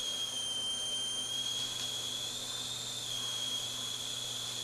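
A steady high-pitched electrical whine from an HHO electrolysis cell at a resonance frequency holds constant, with faint hum and hiss beneath it, no other sounds.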